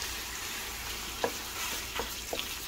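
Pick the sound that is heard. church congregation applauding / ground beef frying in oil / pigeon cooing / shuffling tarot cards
ground beef frying in oil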